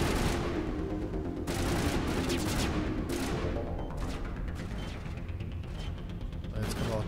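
Shotgun blasts in the video game Mass Effect Legendary Edition, dense and continuous gunfire with sharp bursts layered over a busy, loud battle mix with no clear pauses.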